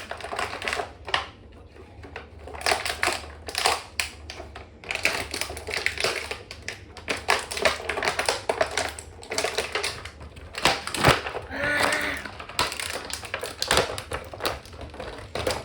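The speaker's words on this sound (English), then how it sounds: "I hate popping hands out of the packaging because sometimes they don't come out" Plastic blister packaging crackles and clicks as action figure hands are popped out, a run of irregular sharp snaps and crinkles up close with no talking.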